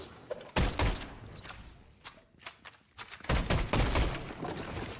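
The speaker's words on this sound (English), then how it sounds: "I'm literally shooting my gun." Pump shotgun blasts in the game Fortnite: a few sharp, punchy shots with short gaps between them, some overlapping bursts of other gunfire, all moderately loud.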